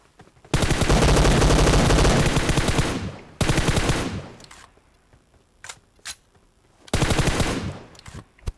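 Automatic gunfire in the battle royale game BGMI: long, loud sustained bursts of rapid shots separated by pauses, with a few scattered single shots between them.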